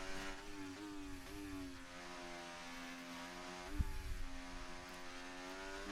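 A racing car engine at Monaco in a video game race drones steadily at high revs, with its pitch stepping up and down as the car shifts gears. A brief low thump sounds partway through.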